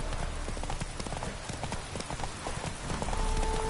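Rapid, rhythmic hoof clip-clop of a horse trotting in a PS4 video game, close and continuous over a low background, with no talking.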